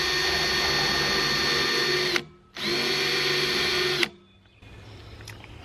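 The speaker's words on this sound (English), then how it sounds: "I just want to take my 2-inch hole saw and drill up from the bottom through this gap in the wood" A power drill with a 2-inch hole saw whines loudly in two long bursts drilling up through wood, separated by a short pause, then spins down, leaving quiet background noise.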